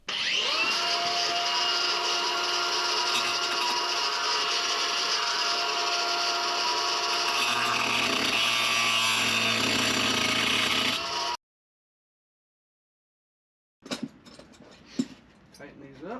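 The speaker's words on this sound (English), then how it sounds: "I'm gonna grind this head off a little bit" A grinder cuts the head off a lag bolt during a porch post swap, giving a loud, continuous harsh whine for about eleven seconds before it stops abruptly, followed by a few handling knocks.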